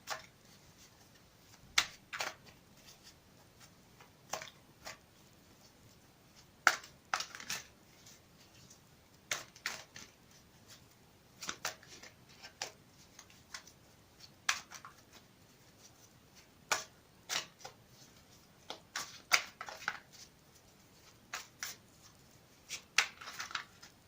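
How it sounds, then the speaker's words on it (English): A Modern Witch Tarot deck is shuffled by hand, giving soft, intermittent riffling and tapping bursts at irregular intervals over a quiet room, with no voices. "I'm going to shuffle it again for you on camera."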